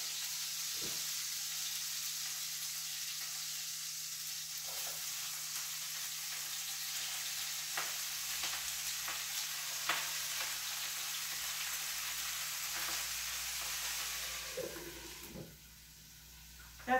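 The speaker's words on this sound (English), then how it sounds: "This is the cabbage. We're going to add this right to the pan with the meatballs." Cabbage frying in a pan with ginger pork meatballs, a steady close sizzle and hiss with occasional stirring clatters, continuous throughout with no talking.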